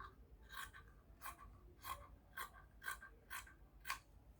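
Scissors cutting Ankara fabric for an asymmetrical flounce, giving seven quiet, evenly spaced snips over a few seconds, close and faint with no speech.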